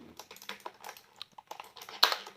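Typing on an aluminium-body mechanical keyboard: irregular bursts of crisp, close key clicks with short gaps, ending in one louder clack, and no voices.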